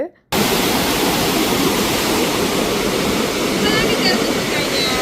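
Water released through a river dam roars as a loud, steady, broadband rush, starting abruptly after a brief quiet moment and continuing without letup, close and powerful.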